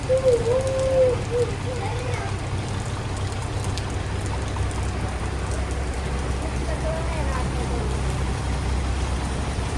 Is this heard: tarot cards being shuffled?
no